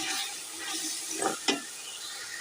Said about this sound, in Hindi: अब इसमें डालते हैं बिस्मिल्लाहिर्रहमानिर्रहीम आलूओं को मिक्स करते हैं।